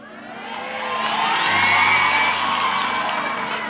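A school audience at a GreenHill Academy praise rally cheers and shouts loudly in a sustained, swelling roar of many young voices, building to a peak midway and staying strong to the end.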